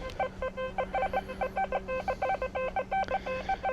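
An XP metal detector gives a jumpy, warbling run of rapid tonal beeps over a costume jewelry necklace chain with a pendant, close and steady against a faint background hum.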